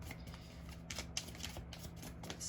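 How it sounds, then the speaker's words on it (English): Tarot and oracle cards being shuffled just off camera, a soft, steady papery riffling with small clicks and flutters, faint and close in a quiet room. "So I'm just shuffling behind the camera."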